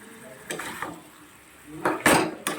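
A spoon scrapes and clinks against a cooking pot while curry is stirred with ghee and whole cardamom, giving a few brief metallic strokes over a faint sizzle, close by.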